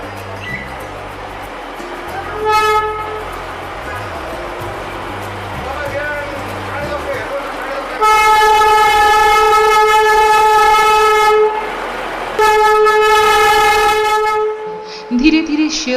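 Darjeeling toy train on the narrow-gauge line pulling out of the Kurseong platform, its whistle sounding in two long, loud steady blasts over rumbling rail noise and murmuring voices.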